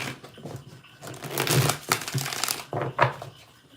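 Tarot cards are shuffled close by, a run of papery rustles, riffles and crisp flicks in irregular bursts, fairly quiet, with no talking over them.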